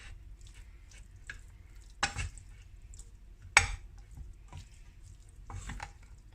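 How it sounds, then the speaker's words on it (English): Sun-dried tomato pasta salad is mixed in a bowl, quiet scraping and tossing with two sharper clacks of a utensil against the bowl, fairly faint and close. "we're going to give them a good mix"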